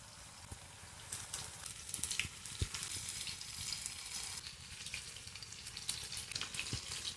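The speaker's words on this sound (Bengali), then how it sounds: "তো চলো এবার ডিপ ফ্রাই করে নিই। দেখো তেল কিন্তু খুব ভালোভাবে গরম হয়ে গেছে, এক এক করে এই চিকেনগুলো ছেড়ে দিচ্ছি।" Chicken pieces for crispy KFC-style fried chicken deep-fry in hot oil with a constant, dense sizzle and crackle, punctuated by brief bubbling pops.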